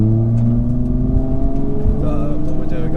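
A 700HP MK4 Toyota Supra and a 550HP MK5 Toyota Supra accelerate hard side by side in a drag race, engines droning loud and close with rising revs; a voice talks over them.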